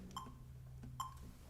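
A metronome set to 72 ticks twice, faint sharp clicks spaced slowly apart over a low background hum, with no voices.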